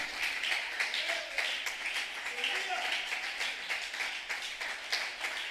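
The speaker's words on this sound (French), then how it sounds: "On acclame pour le Seigneur." A church congregation applauds in a steady, rhythmic patter of clapping that runs throughout, mixed with voices talking over it.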